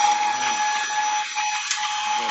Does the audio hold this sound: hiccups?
no